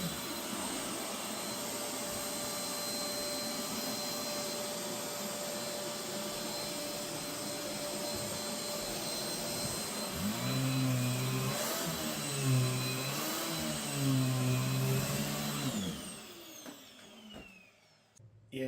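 A Riccar Tandem Air vacuum cleaner runs on a bare floor with a steady whining roar, its pitch wavering as it is pushed about, before the motor winds down near the end.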